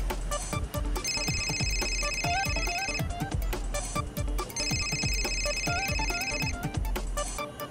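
A mobile phone ringing late at night, a looping ringtone melody with repeating chimes that plays loud and continuous over a steady beat.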